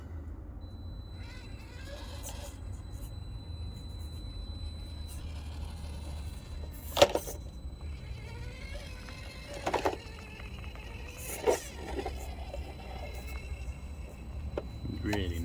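An FMS FCX24 K5 Blazer RC crawler creeps slowly over rocks, its small motor humming low and steady with a few sharp clicks and knocks as the tires catch and climb, fairly close.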